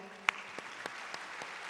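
Faint applause from a success-day gathering audience, a few scattered claps spaced through a brief moment, soft and distant with low room murmur beneath.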